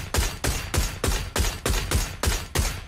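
Rapid gunfire in PUBG, a sustained burst of about nine evenly spaced, loud shots fired in quick succession, each with a sharp crack and short decay.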